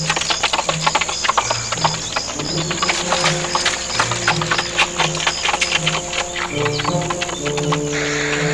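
Hooves of a horse approaching with a rider in a Western setting, a steady clip-clop rhythm of repeated hoof strikes at moderate distance, with jingling tack and no talk.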